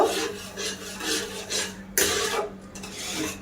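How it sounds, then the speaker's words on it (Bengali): Milk being stirred in a pan while making semolina chomchom sweets, a steady run of rhythmic scraping strokes close by, each rasping pass repeating with a short pause and one sharper scrape partway through. "এবার একটু নাড়তে থাকবো"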